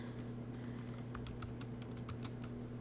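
Fingers type steadily on a computer keyboard, with close, light key clicks in a quick run over a constant low electrical hum.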